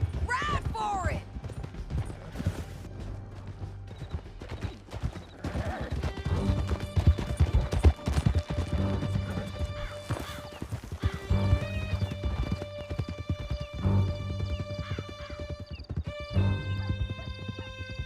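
Horses gallop with steady clip-clop hoofbeats and an occasional whinny in Red Dead Redemption 2, holding loud and close for the whole stretch, with game music and sound effects running beneath.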